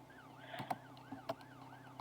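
A wailing police siren in the Roblox game Brookhaven rises and falls in repeated sweeps, quiet and somewhat synthetic, with a few soft thumps and clicks mixed in.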